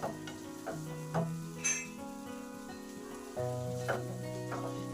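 Spice paste for rui posto sizzles and fries in a pan while a spoon stirs and scrapes it in repeated strokes, close and steady, over soft tonal background music.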